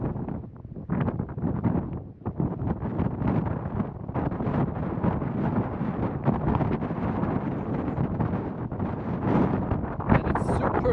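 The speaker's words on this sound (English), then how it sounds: "And it's super windy here." Strong wind buffets the microphone atop Black Peak on Vitosha mountain, 2290 meters up near Sofia. It is a continuous, loud, rumbling roar that barely lets up for the whole stretch.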